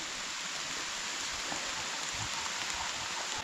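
Heavy rain in a forest pours down, a dense continuous hiss with scattered drops, fairly close and unbroken throughout.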